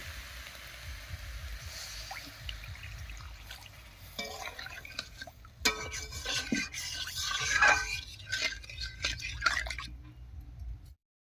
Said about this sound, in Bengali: এবার এর মধ্যে জল দেব।